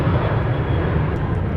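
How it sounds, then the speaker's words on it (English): An American Airlines Boeing 737-900 departs the Minneapolis–Saint Paul airport with a loud, steady jet engine roar, a broad continuous rumble heard close and without talk. "this 739 sneaking out right before that other one touches down"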